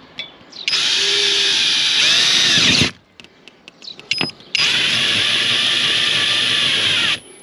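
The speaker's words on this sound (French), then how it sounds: "on va percer vraiment sur le bord, à peu près là" Power drill boring through the edge of a panel made of an outer skin, insulation and an inner skin, with two loud sustained whining runs separated by a short pause with small clicks and knocks, close by.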